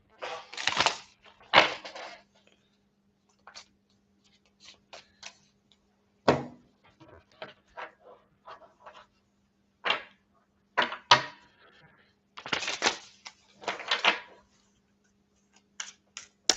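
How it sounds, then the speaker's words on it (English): Someone shuffling a deck of cards indoors, with close, crisp riffling bursts and scattered soft taps and clicks, separated by quiet pauses. "Give it a nice shuffle."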